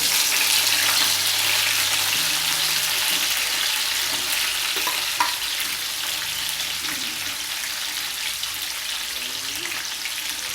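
Herbs and spices sautéing in oil in a pan for Jamaican chicken breast and ackee, giving a loud, steady frying sizzle close by throughout, with faint stirring scrapes and no talking.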